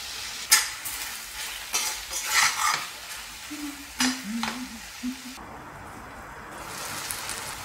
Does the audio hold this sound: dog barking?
no